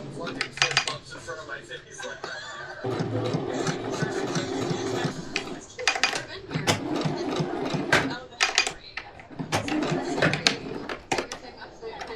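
A sewing machine stitches a mesh hem in bursts of rapid mechanical whirring. Near, loud clacks and handling knocks break up the runs, and a voice talks between them.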